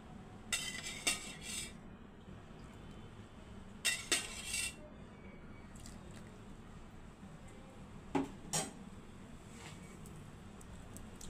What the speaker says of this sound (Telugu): దీంట్లోకి కొన్ని కొబ్బరి పాలు పోసుకొని మంచిగా మిక్స్ చేసుకుంటాను